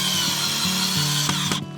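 A Harbor Freight Warrior drill bores pilot holes into wood, its motor whining steadily and loudly and shifting pitch a few times before stopping abruptly near the end; no one speaks.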